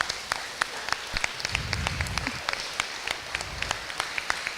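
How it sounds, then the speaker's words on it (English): Scattered audience applause at a FIRST Tech Challenge robotics event, a light patter of claps that rises slightly in the middle and stays moderate throughout. "give a big round of applause and thank you to your parents"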